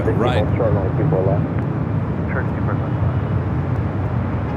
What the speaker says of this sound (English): the China Airlines carbon fiber Airbus A350 taking off 25